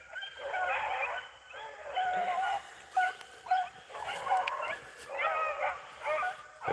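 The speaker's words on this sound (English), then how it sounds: "That's that little female pup there barking." A young female hunting hound pup yips and barks in repeated bursts during an outdoor rabbit hunt, with whimpering notes between, fairly close, while someone talks over and between the barks.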